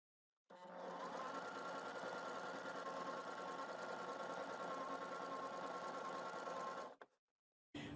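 A sewing machine top stitches a Cashmerette Moto jacket in one steady, even run of close, rapid mechanical whirring lasting several seconds before stopping, with no talking.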